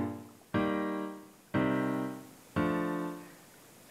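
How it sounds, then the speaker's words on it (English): A 1-6-4-5 chord progression played with auto chords in LMMS, four sustained synth chords each struck cleanly about once a second and left to ring and fade, with no voices. "The original chord progression sounds like this."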